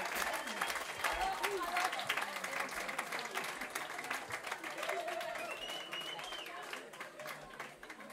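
Audience applause at the Connexion Live concert for a band's bassist after his solo, a steady crowd of clapping with whoops and cheers rising over it, fairly close and sustained throughout.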